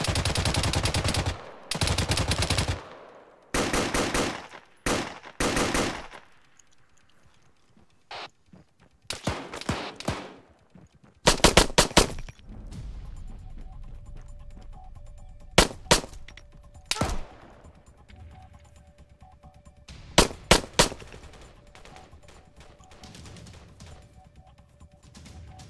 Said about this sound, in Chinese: 一个机枪。